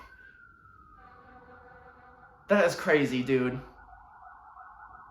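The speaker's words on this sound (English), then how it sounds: "Sorry for the sirens outside." A distant siren wails steadily in the background while someone speaks briefly over it, close and much louder.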